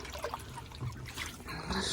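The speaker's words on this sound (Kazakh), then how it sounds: "Шайып төгіп жатырмын." A chickens' water container is rinsed and emptied, with water splashing and trickling out in a continuous close, fairly loud stream.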